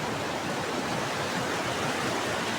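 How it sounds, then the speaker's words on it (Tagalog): Ocean waves wash in at San Juan beach, La Union, a broad, steady hiss of surf with no breaks, close and even throughout. "Ang alon."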